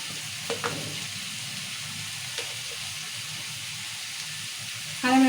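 Onions fry steadily in a pan for an egg and chana dal curry, giving a continuous broadband sizzle with a few soft knocks and a brief louder clatter at the end.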